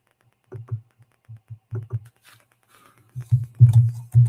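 Fingers type on a computer keyboard with soft, muffled key taps, sparse and irregular at first, then a denser cluster of keystrokes toward the end. The sound is close and quiet.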